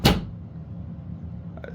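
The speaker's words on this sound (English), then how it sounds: "I just closed the closet door." A closet door shuts with a single sharp thud at the start, followed by a quiet room hum and a faint knock near the end.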